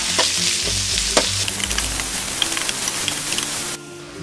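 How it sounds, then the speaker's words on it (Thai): Minced pork sizzles loudly in hot oil with chili and garlic, stirred continuously with scraping strokes and crackling bursts throughout, no voices. "พอพริกกับกระเทียมเริ่มหอมแล้วใส่หมูสับของเราลงไปค่ะ"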